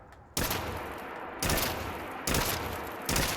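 Full-auto rifle fire from T6M's Magnum Rifle mod in Fallout 4, four loud back-to-back bursts of rapid shots, each a dense roaring stretch with no pauses between them.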